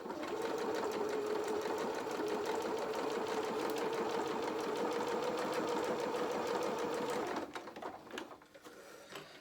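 A sewing machine stitching at stitch length 2, running in a fast, steady, even whir for about seven seconds before stopping, followed by faint handling noise.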